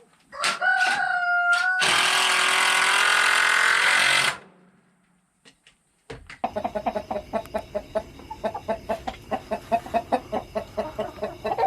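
Loud clucking and squawking open the clip, then a steady mechanical whir with rhythmic pulses, like a sewing machine, runs to the end.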